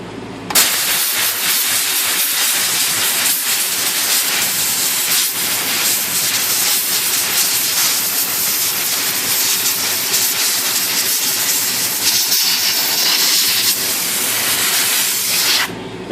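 Compressed air blasts across the keyboard levers of a Royal X typewriter during chemical cleaning, a loud, continuous roaring hiss that holds steady for about fifteen seconds, close up, with no voices.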